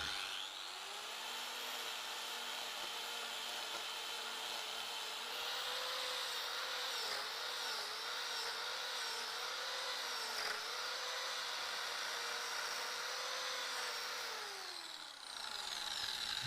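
A power tool whines steadily while a carbide cutter grinds into wood, a continuous buzzing drone that holds for a long stretch then winds down.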